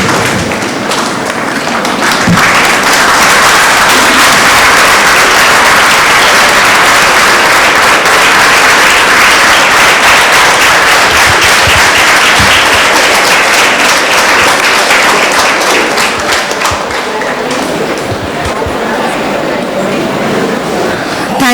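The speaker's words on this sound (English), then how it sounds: "Let us all now give them the big round of applause with a standing ovation." A loud standing ovation rolls through a conference inauguration ceremony on adolescent psychiatry, dense sustained clapping from a packed hall that swells quickly and stays strong for about twenty seconds.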